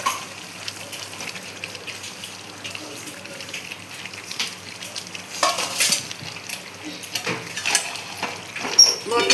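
Mutton pieces frying in a pan with a soft, crackling sizzle that grows busier toward the end, broken by scraping stirs, nearby and moderately quiet.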